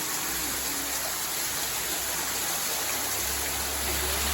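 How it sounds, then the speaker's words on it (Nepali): A traditional stone water spout at a temple site pours water in a continuous, even rush. The flow is moderately faint and alone, with no voices. "धारा, ढुङ्गे धारा"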